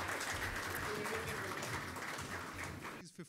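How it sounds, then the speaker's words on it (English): Audience applause at an event welcoming the teenage co-founder of ATI Motors, a dense, steady wash of clapping from a crowd that fades out near the end. "A round of applause for him, please,"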